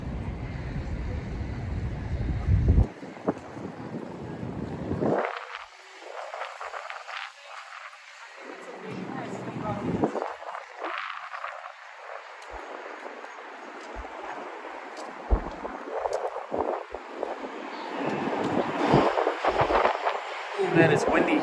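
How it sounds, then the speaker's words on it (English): Gusty wind in New York City buffets the microphone in heavy low rumbles that rise and drop, with voices heard in between the gusts. "Man, it's windy here"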